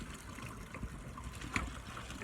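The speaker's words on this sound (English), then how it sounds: "So I'm going to pour it over the colander," Pasta water pours through a colander into a kitchen sink, a steady hissing trickle and splash throughout, fairly quiet and continuous.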